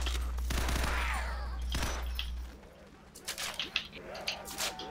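Shotgun blasts and gunfire from Call of Duty: World at War custom zombies on the Wolf River map, loud bursts early on against a steady low drone, with sharper scattered hits later.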